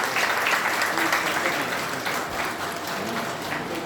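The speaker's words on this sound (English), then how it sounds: "Round of applause for him." An audience applauds the chief guest, a zonal head of the Central Bank of India, at a yoga event in Kolkata, a steady dense wash of clapping at moderate level throughout, with faint voices in the crowd.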